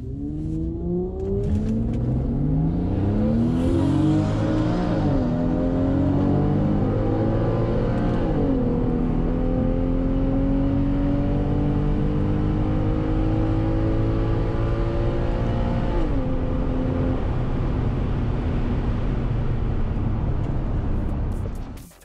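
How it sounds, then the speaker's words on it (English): Stock Porsche 997.1 Carrera 2 Tiptronic on aftermarket 19-inch wheels accelerating hard down a quarter-mile drag strip, engine note climbing steadily through several automatic upshifts, loud and close from the cabin throughout with no talk. "we did actually run the Porsche down the quarter mile, completely standard, except for the aftermarket 19-inch wheels"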